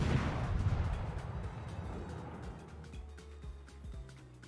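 Naval guns on the Tier VI Pan-Asian cruiser Rahmat in World of Warships, a deep booming salvo fading into rumble, followed by a few fainter distant thumps.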